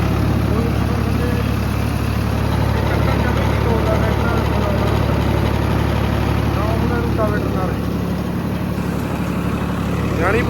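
A Swaraj 969 tractor pulling a 9-foot rotavator runs with a loud, steady engine drone and churning rattle, constant throughout, while someone speaks over it.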